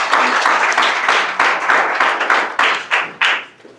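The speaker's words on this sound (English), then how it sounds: "Let's give him a hearty clap again." Audience at an apprenticeship program launch event clapping, a steady patter of hand claps with a few louder, sharper claps standing out before the sound fades out near the end.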